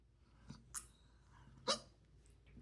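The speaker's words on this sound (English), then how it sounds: "hiccups." Two sharp, short hiccups from a man after taking Grizzly Wintergreen long cut moist snuff, spaced about a second apart, close but quiet, with soft breathing between.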